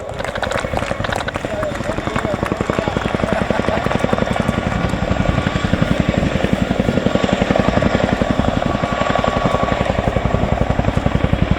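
A helicopter departs backwards at an air show, the Royal International Air Tattoo, its rotor chop pulsing rapidly and loudly throughout, with a voice talking over it.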